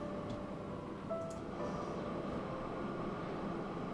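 A small train in Transport Fever 2 gives a low, steady, faint rumble, with a few soft tonal whistles and clicks riding over the hum.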